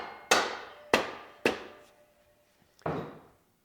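Three sharp metallic hammer taps in quick succession knock a washer into place, each ringing briefly, then a short pause before a fourth duller strike; close and fairly quiet.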